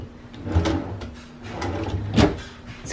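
Drawers in an emptied house being packed up for a move slide open and shut, giving several short wooden knocks and scrapes at close range, with faint room noise between them.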